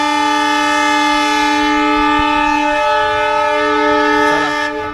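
A diesel train horn sounds at Phalodi Junction in the Thar Desert of Rajasthan, one long, loud sustained blast that holds for nearly five seconds before cutting off.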